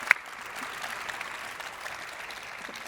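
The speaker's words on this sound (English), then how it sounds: "Please, one more round of applause for my lovely guest." Audience applause for a guest at a panel talk on the game Assassin's Creed, a steady spread of many clapping hands held at even strength for a few seconds, with no voices over it.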